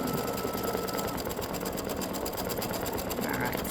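A computerized embroidery machine stitching a free-standing lace Christmas ornament gives off a steady, dense mechanical whir with a fast repetitive needle rhythm throughout.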